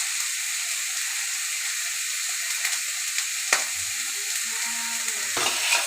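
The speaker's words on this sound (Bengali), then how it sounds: "দেখুন কড়াইতে আমরা চিংড়িটা দিয়ে দিয়েছি, এবার একটু হলুদ দিয়ে দেবো ভাজার জন্য" Shrimp frying in a wok with turmeric and salt give a steady, close sizzle and hiss, broken by a couple of stirring scrapes toward the end.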